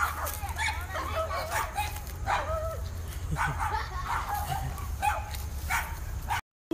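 Two puppies next door bark repeatedly in short, sharp yips at a moderate distance, with a low steady hum underneath and a brief cut to silence at the end.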